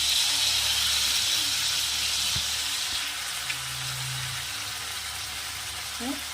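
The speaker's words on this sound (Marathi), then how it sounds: "आता सोया सॉस टाकत आहे आणि रेड चिली सॉस टाकत आहे" Soy sauce and red chili sauce hitting a hot pan for a street-style veg dry Manchurian, giving a steady faint sizzle and hiss, with a few small clinks.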